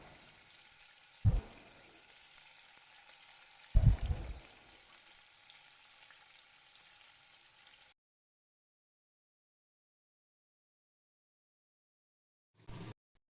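Katla fish pieces are slid into three spoonfuls of hot oil in a kadai, giving a loud steady sizzle with two splashy bursts as pieces drop in. The frying stops abruptly partway through, followed by a short burst of noise.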